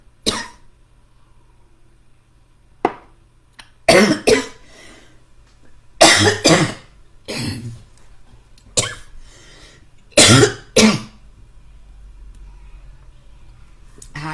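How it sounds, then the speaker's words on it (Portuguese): A person coughs in a series of loud, close, harsh bursts, several clustered in pairs, separated by quiet pauses. "Como se não bastasse a minha tosse, ainda veio a gripe"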